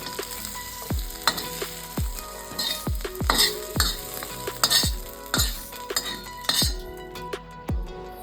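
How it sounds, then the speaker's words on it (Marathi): Grated coconut roasting in a pan after onion and tomato, with a steady dry sizzle broken by about a dozen sharp metallic clinks of a spatula stirring against the pan, close and fairly loud with no talk. "खोबरं भाजून घेऊ। खोबऱ्यालाही छान तांबूस रंग येईपर्यंत भाजून घेऊ।"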